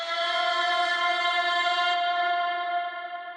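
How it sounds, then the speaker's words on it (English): A sustained, tonal vocal-like tone hangs in a wash of heavy reverb, steady and ethereal, slowly fading toward the end. "some random background vocal effects with a ton of reverb on them"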